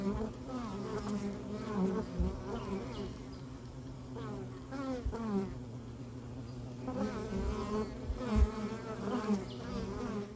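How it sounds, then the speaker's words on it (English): Many honeybees buzz continuously around a swarm trap box near a house, a dense droning hum with individual bees zipping close past the microphone. "It's real close to my house and we've caught bees."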